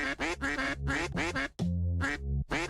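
Ducks quack repeatedly in a video game, a rapid run of loud, nasal calls close by, briefly broken by a longer drawn-out quack before the chatter resumes.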